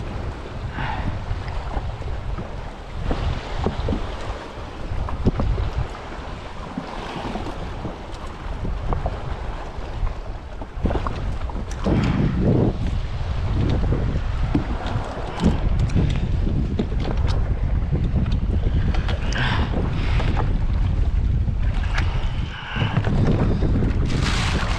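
A jet ski runs over cold water in Texas during an arctic blast. The engine drone and the hull slapping the water stay loud and steady throughout, mixed with heavy wind buffeting the microphone.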